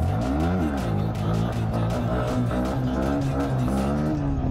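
Motorcycle engine revving hard while popping a wheelie on a crowded road, a loud, steady roar whose pitch swings up and down as the throttle is worked.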